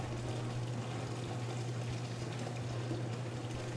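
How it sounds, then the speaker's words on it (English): Rinse water drains from the door spout of a Taylor C712 soft-serve freezer, a steady rushing pour over a low machine hum that stays even from start to finish, with no talking. "Drain all the rinse water from the door spout."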